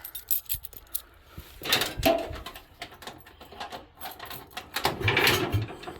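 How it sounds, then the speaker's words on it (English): Metallic jingling and clinking of keys, several bursts of small rattles near the listener, with some handling noise between them. "let me grab my keys"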